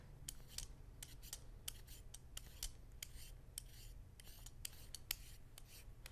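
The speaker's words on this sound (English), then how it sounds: "take your vegetable peeler and just make shreds" A vegetable peeler scrapes shreds from the core of a burdock root in quick, repeated rasping strokes, close and quiet, with no talking.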